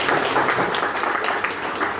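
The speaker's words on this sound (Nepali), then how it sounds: "कृपया उहाँहरूको चाहिँ नि त्यागको सम्मानमा एकचोटि ताली बजाइदिनुहोस्।" An audience at a gathering for Dr. Iwamura Hospital claps together. The applause is brief, steady and moderately loud, with dense overlapping hand claps and no talk over it.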